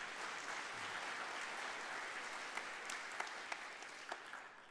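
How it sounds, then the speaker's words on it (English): Audience clapping at a church budget meeting, a moderate wash of applause that thins out into a few scattered, sharper claps toward the end, heard from a slight distance. "Y'all can clap, y'all can clap."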